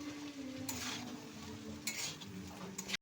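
Fried rice being stirred and mixed in a pan, a steady sizzle broken by louder scraping strokes of the spatula every second or so, close and fairly loud, with no voices.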